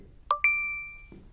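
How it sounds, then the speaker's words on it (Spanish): Visa's successful payment sound, two quick bright metallic dings followed by a long ringing decay, clean and isolated, with a soft low thump near the end. "Este es el sonido de pago exitoso de Visa."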